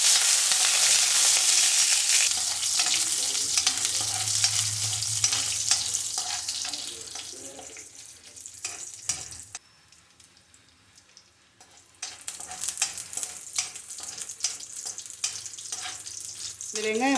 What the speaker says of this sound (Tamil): இப்போ நம்ம அந்த வெங்காயமும் பச்சை மிளகாயும் போட்டுக்கலாம்